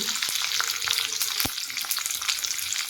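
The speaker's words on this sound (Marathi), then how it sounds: "तेल गरम झालं आहे, मोहरी टाकू फोडणीला" Mustard seeds and chillies sizzle in hot oil, tempering for Karnataka-style moong dal kosambari. A steady, close crackling hiss carries scattered small pops and runs throughout, with no voices.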